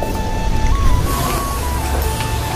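Honda Grazia Repsol scooter being serviced and washed at a showroom workshop, a loud continuous rushing noise with a low rumble and a thin steady whine, no speech.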